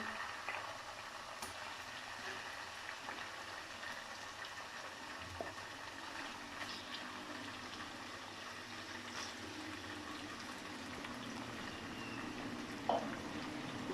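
Steady, dense sizzling and bubbling of chicken frying with garam masala in a pan for chicken qorma, continuous and fairly close, with a few faint clinks.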